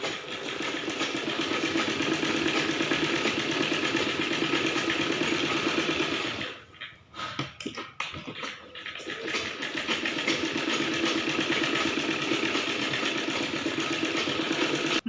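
A sewing machine stitches the front and back parts of a baby's frill frock together, whirring steadily and close, with a brief stop-and-start pause midway before running on continuously.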